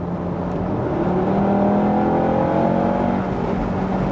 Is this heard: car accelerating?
yes